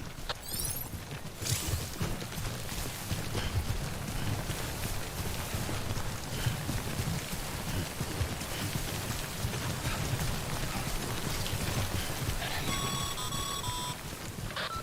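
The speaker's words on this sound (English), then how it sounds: "remember that prolonged exposure to timefall damages cargo containers. Don't stay out in the rain any longer than you have to." Steady timefall rain in the video game Death Stranding, a constant broad hiss of rainfall holding at even loudness throughout, with a brief high tonal chime pattern near the end.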